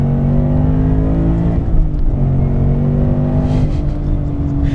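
A 670 hp Roush Stage 3 Mustang GT accelerates hard, its engine a loud, rising roar heard from inside the car, with a brief dip as it shifts gear before climbing again.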